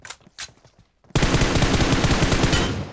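Gunfire in PUBG Mobile gameplay during a fight ending in a headshot: a few sharp shots first, then a sudden loud, sustained automatic burst with rapid rhythmic reports, close and dense.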